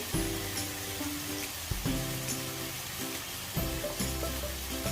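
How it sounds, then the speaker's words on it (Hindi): Jackfruit and mixed vegetables fry in a pan with a steady, close sizzle, broken by brief scraping stirs, with no talking. "बहुत ही अच्छी तरीके से ये सारे सब्जी भून रहे हैं।"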